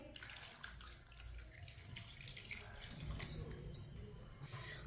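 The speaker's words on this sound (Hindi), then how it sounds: "साथ में पानी डाल लेंगे।" Water pours steadily into a cooking pot holding chicken pieces, a faint continuous splashing rush with no voices during the pour.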